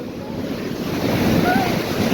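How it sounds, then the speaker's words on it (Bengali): Ocean waves surging onto a beach, a steady loud wash of surf mixed with wind buffeting the microphone, continuous and close, with no clear speech. "এরকম একটা বড় ঢেউ আসছে এই জায়গা।"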